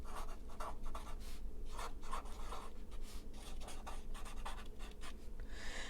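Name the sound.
writing notes by hand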